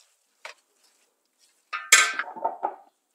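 Lemon juice being added to a salad, then a few quick clinks and scraping stirs of utensils against a bowl, close and clear with no talking.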